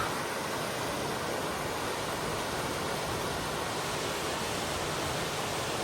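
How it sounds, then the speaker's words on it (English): A raging waterfall on a creek beside a hiking trail gives a steady, unbroken roar of rushing water. It is loud and close, with no voices. "Raging waterfall right there."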